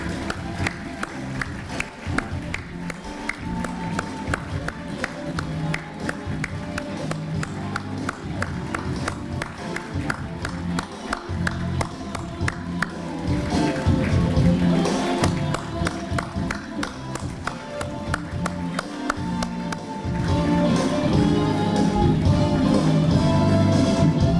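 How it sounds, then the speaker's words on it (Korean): At a political party's founding convention, a large crowd claps and cheers steadily, the applause swelling louder midway and again near the end, a continuous roar of many hands and voices. "여러분 다시 한번 힘찬 박수 보내주시겠습니까?"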